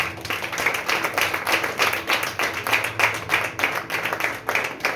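Congregation clapping during a church service after a sermon, a steady run of hand claps that holds evenly at moderate volume throughout, with no voices on top.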